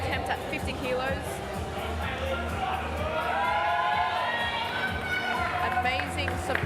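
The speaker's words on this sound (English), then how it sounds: "Amazing support Yeah. in the crowd" A crowd cheers and shouts in support during a powerlifting bench press attempt at a team championship, a sustained roar of voices and whoops that builds slightly and stays loud throughout.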